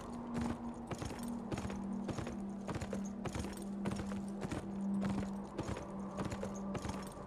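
Horse hooves clip-clop in an even walking rhythm in the video game Beyond Two Souls, sharp near strikes repeating over a soft steady background hum, with no talk.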